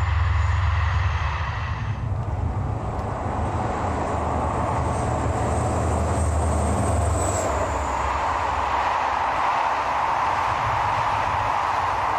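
A CC 72000 diesel locomotive hauls a main-line express, its deep engine roar steady and loud throughout, with rolling rail noise and a brief high squeal partway through.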